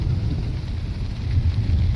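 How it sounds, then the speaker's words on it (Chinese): Dense, continuous roar of heavy rain with deep low rumbling thunder underneath, heard from inside a thatched hut on a windy hilltop. "打雷又闪电啊，好恐怖，太可怕了。"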